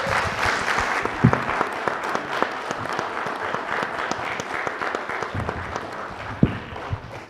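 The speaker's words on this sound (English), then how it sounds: "So just a round of applause for our authors." A room full of people claps steadily for the authors at a front-line combat veterans' book event, a dense, sustained round of applause with a few sharper individual claps standing out.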